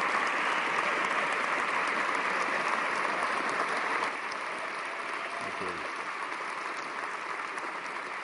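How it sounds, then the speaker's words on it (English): Sustained audience applause after a formal debate on the existence of God, a dense steady clapping that thins and softens slightly partway through. "Would you join me in giving a round of applause to both our guests today?"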